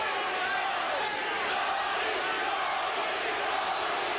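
Boxing arena crowd at a title fight chanting for Tony Lopez, a dense, continuous roar of massed voices filling the hall, steady and loud throughout.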